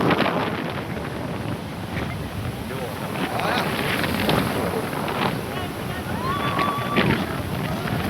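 Strong gusting wind buffets the microphone on a rough sea beach in Goa, roaring steadily with surf underneath and a whistle sounding briefly near the end.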